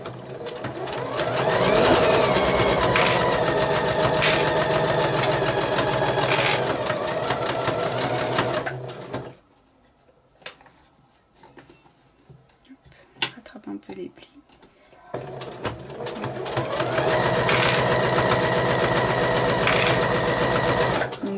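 Sewing machine stitching a zipper onto the top of a tote bag, running in steady loud bursts with a quiet pause in the middle, then starting up again.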